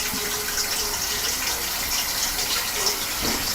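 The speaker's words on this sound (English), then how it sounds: "Now, this is filling up with some hot water." Hot water runs from a kitchen tap into a pot during cooking, a steady continuous gushing stream that stays even and fairly loud throughout, with no voices over it.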